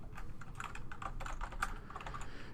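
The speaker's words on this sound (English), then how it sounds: "I can go ahead and connect to that by just typing the name of the network node." Rapid typing on a computer keyboard as a network node name is entered, a steady run of close, crisp key clicks with no talking.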